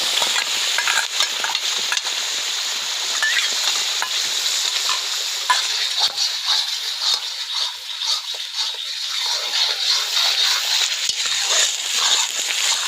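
Ginger, garlic and red chili paste for chicken dum biryani fries loudly in a pan, giving a bright, constant sizzle broken by stirring scrapes close by, with no talking.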